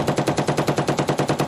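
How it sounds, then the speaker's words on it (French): A heavy machine gun mounted on a Mauritanian army pickup truck fires a rapid, evenly spaced burst of about a dozen loud, sharp shots, with no talk over it. "Les pick-up sont équipés d'une mitrailleuse lourde."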